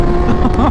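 A nearly 20-year-old Honda 600cc motorcycle engine roars loud and close, a brief, sustained high-revving buzz with a rising pitch toward the end.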